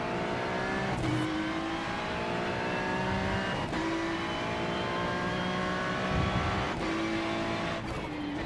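In a GTP/GT3 multiclass race on the Nürburgring Grand-Prix-Strecke in a racing game, a high-pitched race car engine drones steadily, with brief gear-shift dips as a faster car closes in from behind, loud and continuous.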